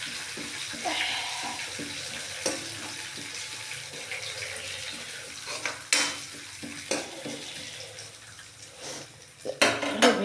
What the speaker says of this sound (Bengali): এই মাসকলাই ডালটা আমার ভাজা ভাজা হয়ে গেল।